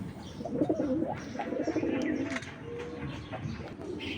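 A pair of Cobra Pankhi breeder pigeons coo in low, rolling phrases that repeat through the stretch, close by with chirpy bird noise around them and no talking.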